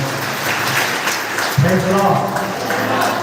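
A church congregation breaks into applause, a broad wash of clapping building near the middle and carrying on under a voice speaking over it.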